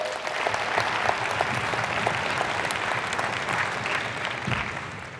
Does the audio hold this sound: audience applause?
yes